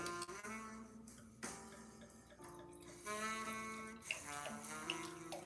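Wine is poured into a glass in several separate streams, each a gurgling splash whose tone rises as the glass fills, close and quiet, with no voices.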